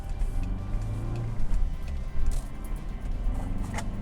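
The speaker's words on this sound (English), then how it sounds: "Very easy shift. It grabs the gears very perfectly." A modified MK4 VW Jetta TDI, Malone Tuned Stage 3, drives with a steady engine drone and road noise inside the cabin, with brief surges around gear changes.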